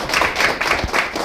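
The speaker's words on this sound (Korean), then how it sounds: "박수 한번 부탁드립니다." Audience clapping at a local party members' tea gathering in Busan, a busy, even wash of many hands applauding, fairly close and steady, with no speech on top.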